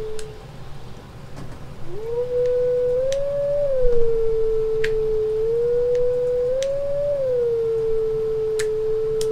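Wolves howling in a video game, a long wavering howl rising and falling steadily over a low ambient bed, with faint clicks and taps scattered throughout.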